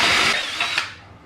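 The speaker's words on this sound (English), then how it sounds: "Now I was using a masonry concrete bit to do that." Power drill fitted with a masonry concrete bit, boring into concrete in a short, loud whirring grind that fades out after about a second.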